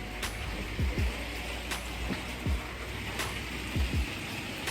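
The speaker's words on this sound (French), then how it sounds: "En plus il pleut." Rain falls steadily outdoors, a dense continuous hiss with occasional heavier drops and a few low knocks, no voices present.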